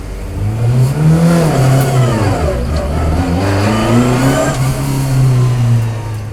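A car engine fed by a carburettor with 42mm chokes revs up and stumbles, the tone rising and sagging in repeated bogging surges around the midrange, loud and close, with no talk.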